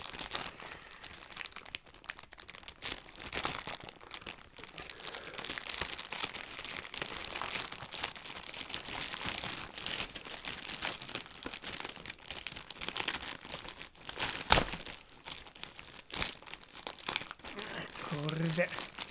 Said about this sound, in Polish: Razem z wami rozpakuję nową paczkę.